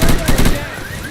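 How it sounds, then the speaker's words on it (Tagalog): Rapid automatic gunfire from the zombie shooter game Left 4 Dead 2 rattles loud and dense, bursts stacking into a continuous barrage that tapers slightly toward the end. "may bumabaril sa akin"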